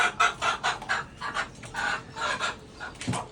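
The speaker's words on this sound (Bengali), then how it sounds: "এখানে একটা দেশি মুরগিকে কিছু বসানো হয়েছে।" A native deshi hen on a chicken farm clucks in a run of short, rhythmic bursts, fairly close and loud, with no talking.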